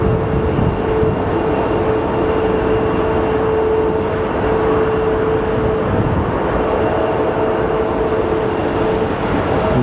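An American Airlines jet from Dallas lands at Sky Harbor Airport, giving a loud, steady engine roar and rumble on rollout with a faint sustained whine and no talk.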